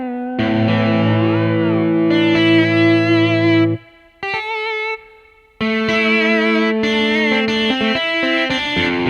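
Layered synthesizer notes play on a ROLI Seaboard RISE, with the channel 2 voice audibly bending in pitch up and down over sustained chords, broken by short pauses.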